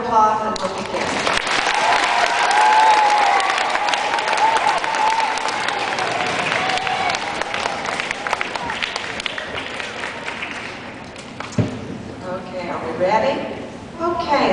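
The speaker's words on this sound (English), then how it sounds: "So one more round of applause and we'll begin." School geography bee audience clapping for the contestants, a loud, sustained round of applause from a crowd that gradually fades, with voices and cheering mixed in and speech emerging near the end.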